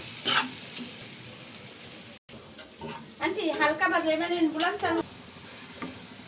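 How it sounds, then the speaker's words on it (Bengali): Food sizzles and crackles in a hot pan as it fries until reddish, with occasional stirring scrapes. A voice talks briefly over the steady frying in the middle. "এটাকে যতক্ষণ না লাল লাল হবে ততক্ষণ না আমি এটাকে ফ্রাই করব"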